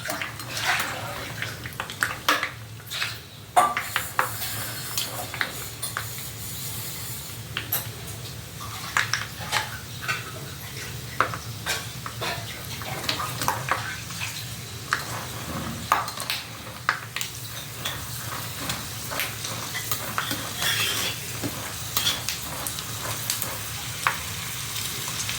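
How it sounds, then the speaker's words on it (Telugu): Peanuts fry in a pan of hot oil with a continuous crackling sizzle and scattered sharp pops. Occasional stirring clatters against the pan, and faint talk comes in now and then. "ఇప్పుడు నేను పల్లీలు వేస్తానండి దీంట్లో."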